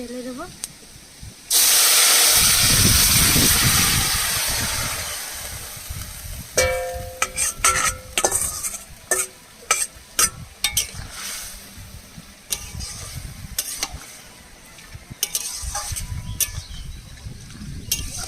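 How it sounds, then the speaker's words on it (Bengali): Cumin seeds and garlic sizzling in hot oil, a loud hiss that starts abruptly and slowly settles, followed by scraping stirring clatters of a spoon in the pan, with a voice talking at times. "তেলের মধ্যে দিয়ে দেবো একটু জিরা ফোড়ন রসুনটা হালকা পুরো পুরো হয়ে আসলে"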